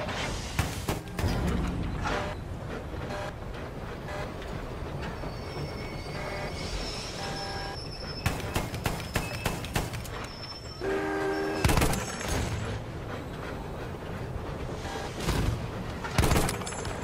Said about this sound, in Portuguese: Oh, um trenzinho, galera.